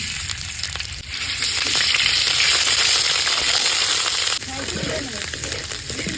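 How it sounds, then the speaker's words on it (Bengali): Onion and garlic paste sizzles loudly in a hot wok (kadai) as fish curry is started, a steady frying hiss that drops slightly partway, with faint stirring clatter near the end. "পেঁয়াজ রসুন বাটা দিয়ে দিলাম।"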